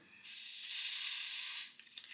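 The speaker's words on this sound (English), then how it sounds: "it's better to spray underneath the lace than spraying over" A single sustained hiss of spray, sprayed underneath the lace of a glueless wig, lasts over a second, close and fairly loud, then cuts off, followed by a faint click.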